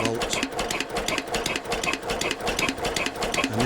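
A Lister CS diesel engine idles close by with a fast, even, mechanical chatter, turning over steadily and driving a generator.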